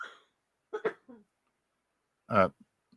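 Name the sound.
cough or sneeze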